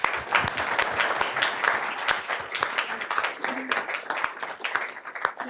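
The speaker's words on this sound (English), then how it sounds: "So I'd like to give a big celebration and a round of applause." Steady round of applause from attendees at a Board of Education meeting, dense clapping filling the room for several seconds with a few faint voices mixed in.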